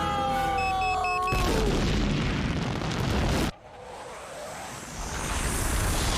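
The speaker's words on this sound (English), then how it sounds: "The explosion?" An explosion in a Futurama cartoon episode: a tonal, musical lead-in gives way to a loud, sustained roaring blast that cuts off abruptly, followed by a quieter rumbling wash that builds again toward the end.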